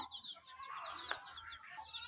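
Faint clucking of chickens nearby, a steady murmur of soft calls with one sharper note midway.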